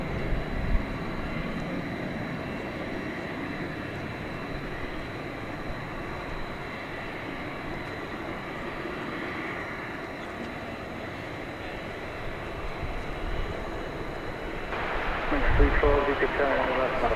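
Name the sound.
small business jet landing at DFW Airport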